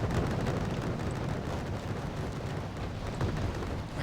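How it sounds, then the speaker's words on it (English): An Apache Longbow helicopter fires Hellfire missiles in the wargame Wargame Red Dragon, a dense, rumbling barrage of launches and blasts rolling on continuously at moderate loudness. "We have another Apache firing here"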